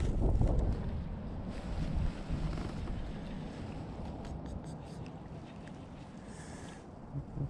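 Wind buffets the microphone on a bass fishing boat on muddy water, a continuous rough rumble with some water lapping, loudest at the start and easing slightly toward the end.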